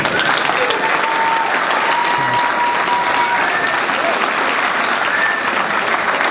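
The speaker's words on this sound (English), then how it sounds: "Ladies and gentlemen, a very special welcome or a round of applause for" A crowd at a wrestling event in Sand Springs gives a loud, sustained round of applause for a group of senior wrestlers, steady clapping throughout.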